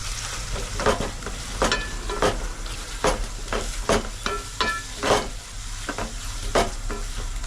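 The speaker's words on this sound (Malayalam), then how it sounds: "ഞാൻ വഴറ്റിയെടുക്കുകയാണ് ചെയ്യുന്നത്" Food with turmeric sizzles and fries in a hot pan inside a lorry while a utensil stirs and scrapes at intervals, a steady crackling hiss throughout, close by.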